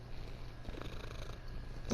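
A cat purrs right against a microphone while rubbing its face on it, a close, steady low rumble with soft rustling bumps and a louder brush at the end.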